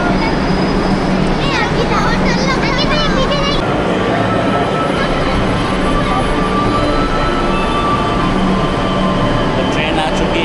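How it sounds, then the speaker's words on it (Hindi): A passenger train arrives at a station during an educational trip: a loud, continuous rumble of wheels and wagons rolls steadily throughout, with brief squealing near the start and people talking underneath. "तो ट्रेन आ चुकी है"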